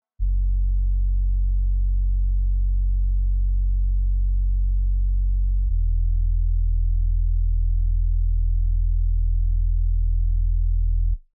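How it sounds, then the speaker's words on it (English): A pure, deep sub bass from a drum and bass track made in FL Studio holds one low note, then drops to a lower one midway, steady and loud with no drums or voices, before cutting off. "And add that sub bass."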